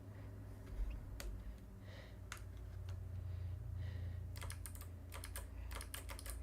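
Someone types on a computer keyboard during a coding session: scattered single clicks at first, then a faster burst of keystrokes near the end, quiet and close, with soft breathing in the background.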